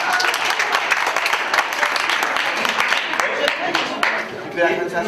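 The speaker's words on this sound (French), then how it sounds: "on peut applaudir Andrea" Theatre audience at an interactive Alzheimer forum performance applauding a participant named Andrea, dense sustained clapping from many hands filling the room, with some voices underneath.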